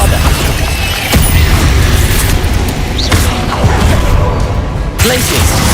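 The Bombarda blasting spell goes off in Hogwarts Legacy, a loud, booming explosion with sharp bursts and rumbling low end, a few distinct hits amid dense combat noise, with a voice speaking over parts of it.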